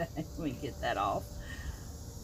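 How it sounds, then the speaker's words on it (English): Locusts drone outdoors in a steady, continuous insect buzz, faint and distant-sounding, with a brief nearby vocal sound partway through. "Can y'all hear those locusts?"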